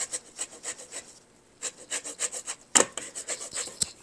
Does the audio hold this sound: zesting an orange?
yes